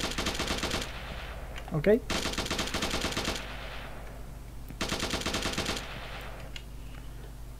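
A rifle in an Unreal Engine 5 shooter fires sustained automatic bursts, rapid even shots in two long strings with short pauses between. A voice speaks briefly over the gunfire.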